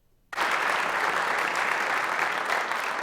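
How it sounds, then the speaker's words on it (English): Applause breaks out suddenly at a Utah State Hall of Fame induction ceremony in the Russell Wanless Performance Hall, a dense, sustained roar of clapping from a large audience after a moment of quiet. "Applause filled the Russell Wanless Performance Hall"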